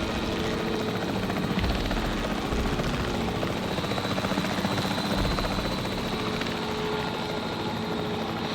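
A capture team helicopter in Jurassic World Evolution 3 drones steadily and loudly throughout, its rotor beating in a continuous thrumming wash with no voices over it.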